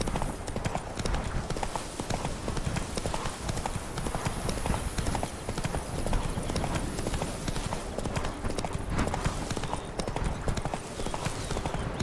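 Roach, the horse in The Witcher 3 video game, gallops in a steady rapid clip-clop of hooves that runs throughout, close and continuous over a dense game soundscape.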